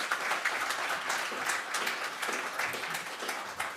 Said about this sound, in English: Can we just have a round of applause for the parents?